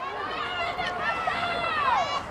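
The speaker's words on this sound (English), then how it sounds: "You can hear the folks on our crowd mic." A soccer stadium crowd at a prep quarterfinal match at Pan American, heard as a continuous babble of many voices and shouts, fairly close and steady, with a commentator talking over it.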